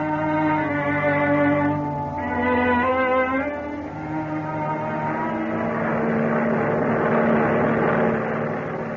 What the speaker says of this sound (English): A transport airplane moving through the sky at high speed.